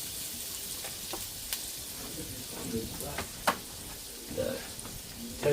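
A tablespoonful of batter sizzles and fries quietly in a pan, a soft continuous crackle with a few sharper pops and faint stirring clatter, no talking.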